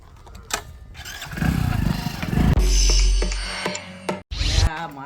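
A motorcycle starts with a sharp crank and revs, its engine swelling loud and close before cutting off abruptly, then a brief second burst, with a few voices and scrapes around it.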